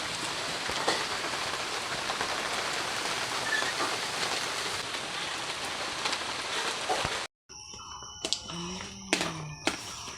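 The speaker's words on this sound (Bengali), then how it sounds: "দেখুন কীভাবে বৃষ্টি পড়ছে" Rain falls steadily in a close hiss, then cuts out abruptly and gives way to a few scattered clatters and tones.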